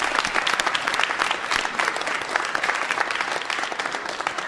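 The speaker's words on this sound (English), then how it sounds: "Give yourselves a round of applause." A studio audience at a philosophy program applauds continuously, a dense, even wash of clapping from many hands lasting several seconds.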